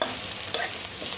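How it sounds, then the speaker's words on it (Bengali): Chopped onion sizzles in hot oil with cumin seeds, a soft, steady frying hiss with a brief stirring scrape partway through. "পেঁয়াজটাকে একটু ভেজে নেব।"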